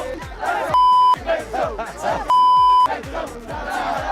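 Two long, steady electronic beeps, each about half a second, ring out over a busy crowd of chattering voices.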